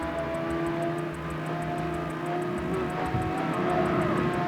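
A steady, loud engine drone with a sustained high-pitched whine from a nitro boost in the racing video game CarX Street, continuous throughout with no talking.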